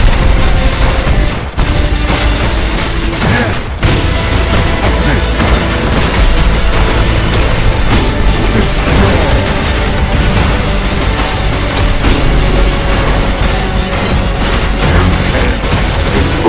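Dense, loud bursts of weapon fire from the video game ULTRAKILL, including charge shots, rail cannon and shotgun, with booming blasts piling up continuously, clanking impacts and a few heavier thuds throughout.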